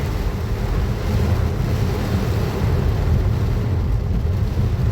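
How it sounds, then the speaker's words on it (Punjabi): Heavy monsoon rain pours down in Patiala, a dense, constant roaring hiss with no breaks, loud and close, with wind buffeting underneath. "ਯਾਰ ਇੰਨਾ ਮੀਂਹ ਪੈ ਰਿਹਾ ਹੈ"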